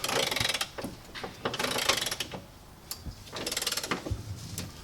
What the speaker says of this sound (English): go back and tighten up the other bolts